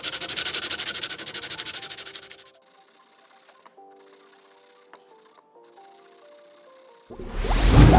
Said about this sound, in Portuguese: vou lixar ela bem para ela ficar tudo bem brilhante